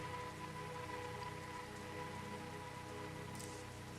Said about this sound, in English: pelted by freezing rain.